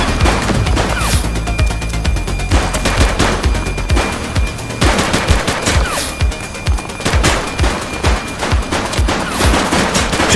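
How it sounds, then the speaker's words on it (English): Gunfire rings out in the video game The Precinct as loud, rapid bursts of automatic shots crackle continuously, with a few sharp, heavier blasts punching through the relentless volley. "He's shooting!"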